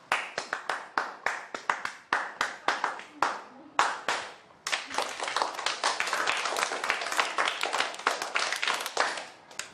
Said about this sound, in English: So what are you guys doing? A clapping game?